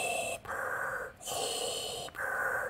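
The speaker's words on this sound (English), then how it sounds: "you can hear Vader's breathing" Darth Vader's mechanical breathing from Star Wars, slow hissing inhales and exhales through a respirator, two full cycles with brief pauses between, clear and prominent with no talk.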